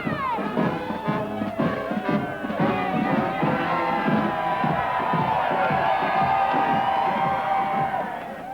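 At Niagara-on-the-Lake, a crowd cheers and whoops loudly along with a marching orchestra, overlapping voices and shouts rising into a sustained roar over the band's rhythmic playing.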